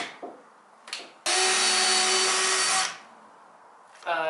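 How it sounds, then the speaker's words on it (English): A power drill drives a 2-inch screw into the wooden deck of a skate box, one loud sustained whine of about a second and a half, close by, with brief shorter bursts and handling noise around it. "I'm just gonna come right about here in the middle of those two holes and screw it into the deck"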